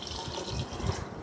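Two cups of soaking water for millet pulao pour into a pressure cooker, a soft, brief trickle and splash that stays quiet and close.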